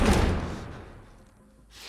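A heavy door is slammed shut while survivors barricade it in The Last of Us Part 1, a loud close thud and rumble that quickly dies away, with nobody speaking.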